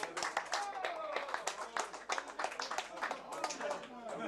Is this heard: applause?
yes